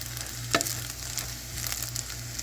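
Strained Bertel tomatoes are stirred in a pot on medium heat, giving a soft, steady sizzle with a few faint scraping strokes, close and quiet, with no talk.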